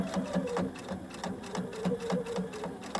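A sewing machine stitches a fabric drawstring in a fast, steady rhythm of close mechanical clicks and whirring, running continuously at moderate loudness with no talk.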